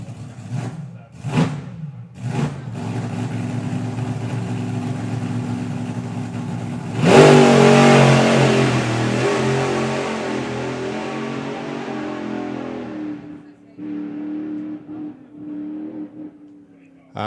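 Supercharged slingshot drag racing car, the Chariots of Fire of the Supercharged Outlaws class, roars into a loud full-throttle pass after several short blips, the engine howl fading away over about ten seconds, with an announcer talking throughout.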